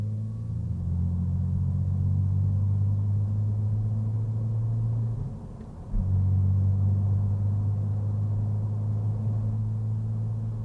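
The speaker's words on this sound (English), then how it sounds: "Trying to accelerate gently there, up to about 50 miles an hour now." A 3-litre BMW Z4 pulls away gently on the road with a steady, low engine drone heard from inside the car, interrupted midway by a brief dip and a small thump before the hum resumes.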